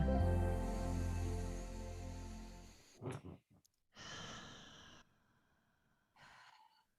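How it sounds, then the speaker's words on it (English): Slow, deep breathing during a guided group meditation: a long, steady exhale fades out, and a few softer breaths and gasps follow with quiet gaps between them. "let's take 3 more deep, soft, slow breaths together"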